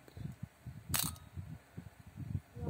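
A Canon EF film SLR camera's shutter fires once with a short, crisp mechanical snap, heard close up against a quiet room and low murmuring talk.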